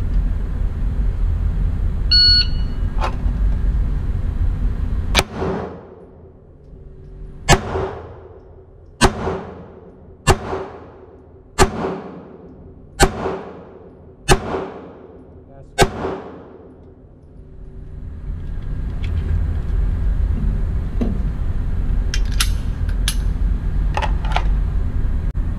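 Smith and Wesson M&P Shield Performance Center pistol fired at a target, seven loud sharp shots in a steady spaced rhythm, each with a short ringing decay, over outdoor background noise.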